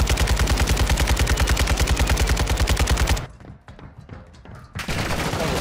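Rapid automatic gunfire in the video game Warzone, a loud unbroken burst of evenly spaced shots lasting about three seconds, then a short lull and a renewed spell of firing.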